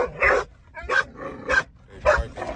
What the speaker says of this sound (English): They barking because somebody walked past the car.